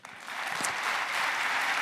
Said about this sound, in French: je crois qu'on peut encore les applaudir